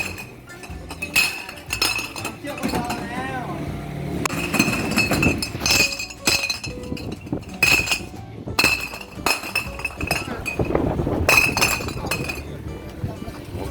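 Glass bottles, including soda bottles, clinking and knocking together at a scrap buying shop; repeated sharp clinks in irregular bursts, fairly close, with some background voices.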